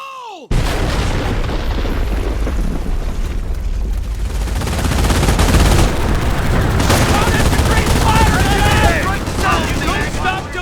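Battle noise from Company of Heroes on Omaha Beach: an explosive charge blows barbed wire amid constant heavy gunfire and booms, with shouted voices under a loud, dense wall of combat sound.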